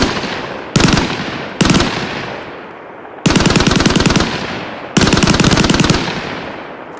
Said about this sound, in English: Avenger from Infinite, and I believe it is because it is an SMG class weapon, and it does have custom sound effects as well.